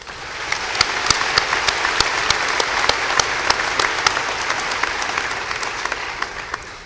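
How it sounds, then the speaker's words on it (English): A high school graduation audience applauds steadily, a dense wash of clapping from a large crowd with scattered sharper claps standing out, sustained throughout. "let's give them a big round of applause."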